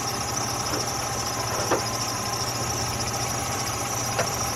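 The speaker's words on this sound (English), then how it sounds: "I actually can hear the alternator kind of whining here" The engine of a 2003 Jeep Liberty idles close by with a steady rumble, while a thin, constant high whine from the alternator rides over the top, no talking.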